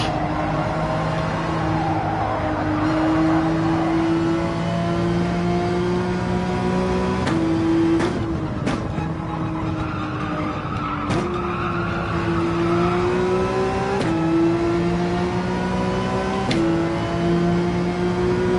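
A race car engine in Gran Turismo 7 drones loudly and steadily, its pitch climbing through the gears with several sharp shift breaks and tire squeal mixed in.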